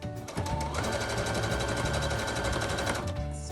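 A sewing machine stitches fabric ear savers, its fast steady needle rhythm running loud and continuous for about three seconds after a brief start-up, then easing off at the end.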